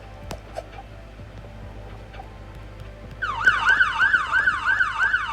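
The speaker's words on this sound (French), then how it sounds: "tu pars avec ton ambulance" A wailing ambulance siren starts abruptly partway through, cycling in a rapid up-and-down yelp, fairly loud and close after a quiet stretch.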